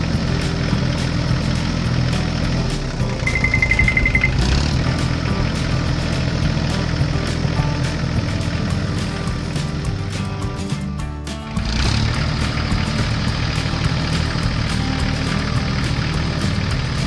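A yellow tractor engine runs steadily while pulling a large trailer on a hilly road, a constant low rumble throughout with a brief dip near the end before the drone resumes.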